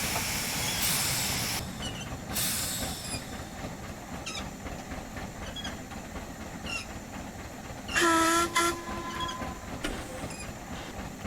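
A steam locomotive in Train Simulator, on a narrow-gauge Welsh lake railway, gives a short, clear whistle blast near the end, rising above the steady rumble and rhythmic clatter of the moving train.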